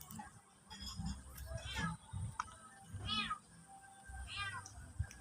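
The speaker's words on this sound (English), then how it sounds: "She's meowing so loud right now, dude." A trapped cat meows loudly and repeatedly, sounding close and distressed, with several drawn-out cries over rustling background noise.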